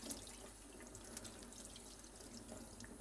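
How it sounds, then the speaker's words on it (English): Cold water runs steadily from a tap as cured salmon is rinsed under it, a faint, even splash and trickle with no talk. "run it under the water, just rinsing off any of that excess salt"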